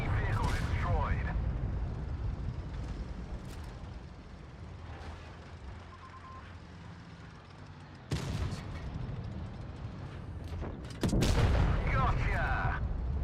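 A tank firing an HE shell in World of Tanks Blitz: sharp, booming blasts cut through the low engine rumble, with a big shot near the end, alongside game effects and some talk.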